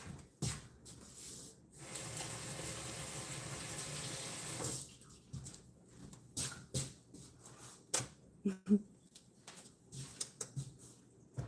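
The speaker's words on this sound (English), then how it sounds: "Wash my hands." Running water from a kitchen tap while hands are washed before cooking dinner, a steady hiss for several seconds and then broken splashes and drips, fairly quiet and close.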